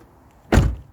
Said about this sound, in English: Right, all the doors are shut.